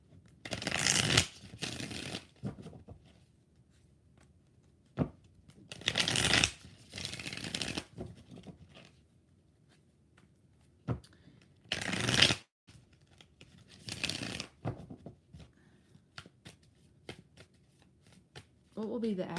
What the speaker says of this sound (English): 3 shuffles for Arlena.